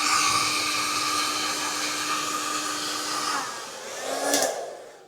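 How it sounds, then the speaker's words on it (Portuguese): A hair dryer and a coffee machine running off an ALLPOWERS R1500 portable power station: a loud, steady blowing whir that holds for several seconds, then a brief surge of hissing noise before the sound fades away. "máquina de café ligada, carregamento de telemóvel e um secador"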